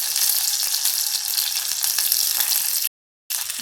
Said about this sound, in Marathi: कढीला फोडणी देऊन फक्त आपल्याला उकळवायची आहे.